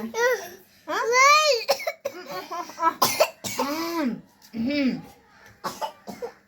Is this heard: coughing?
yes